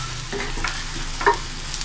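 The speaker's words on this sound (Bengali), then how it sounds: "তেলের মধ্যে ভাজা হয়ে গিয়েছে" Spices and green chilies frying in hot oil for a bean and dry fish curry, with a steady soft sizzle, stirring scrapes and a brief louder clink near the end, close by.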